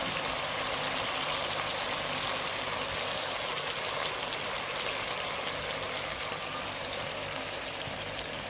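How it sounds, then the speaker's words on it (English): Salt mackerel with black pepper, ketchup and seasoning simmers in a pan for a Jamaican fry up, giving a steady, even sizzling hiss that runs unbroken throughout with no talking. "turn on the heat and allow it to simmer and cook"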